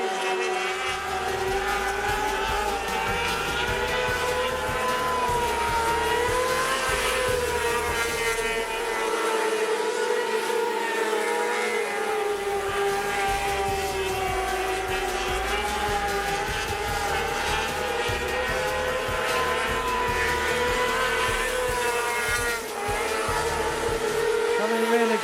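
Formula 500 race cars lapping Rockhampton Speedway, a dirt oval, their engines wailing continuously at high revs as the pack circles, loud and sustained throughout with a race commentator talking over it.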